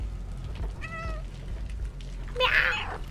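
A cat meows twice in the video game Stray, a short tonal mew followed by a louder, brighter drawn-out meow, close and clear over a low background hum.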